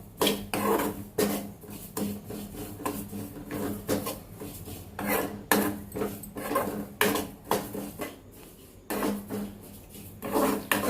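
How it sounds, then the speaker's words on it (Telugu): Mustard seeds and cumin being dry-roasted in a pan, stirred with a utensil that scrapes and clatters against the metal in repeated, rhythmic strokes every second or so, close and fairly quiet. "ఆవాలు, జీలకర్ర ఈ రెండు కలిపి మిక్స్ చేసి వేయించుకుందాం"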